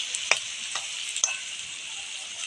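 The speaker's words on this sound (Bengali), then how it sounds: "পুরো তেলের মধ্যে লাল লাল করে ভেজে নিচ্ছি" Potato pieces fried in oil for a chicken biryani, a steady bright sizzle with a few clinks of stirring, close and alone with no voices.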